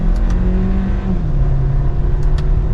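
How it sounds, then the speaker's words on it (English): The engine of a 2024 Hyundai Kona Limited accelerates in sport mode, a loud, steady drone heard from inside the car as the pitch climbs gradually, with faint ticks on top. "It's a peppy little engine for the all-new Kona"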